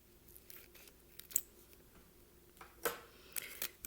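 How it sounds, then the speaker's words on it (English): A few quiet, crisp scissor snips cutting through thin packaging, spaced unevenly with soft rustling between them. "since I have scissors handy, I'm just going to go ahead and cut the top"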